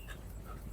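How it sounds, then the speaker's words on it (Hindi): A street dog pants briefly and faintly on a dark Vietnamese street at night, a few soft quick breaths. "कुत्ते बड़े अग्रेसिव है यार यहाँ के"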